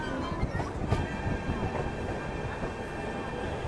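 A Rajdhani Express train runs near Arrah junction with a steady, close rumble of wheels on rails and a thin metallic squeal riding above throughout.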